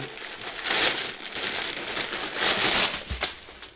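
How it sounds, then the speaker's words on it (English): Plastic packaging around a new rugby jersey crinkles and rustles loudly up close as it is opened, with continuous crackling handling sounds and a sharper crunch near the end. "lots of packaging. I can still hear rustling."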